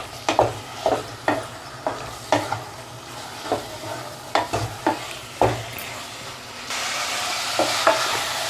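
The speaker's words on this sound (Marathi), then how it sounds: "मसाल्यामध्ये खिमा छान मिक्स करून घेऊया." Chicken keema being stirred into masala in a pan, a spatula scraping in steady repeated strokes over a soft continuous sizzle, close and alone with no voices.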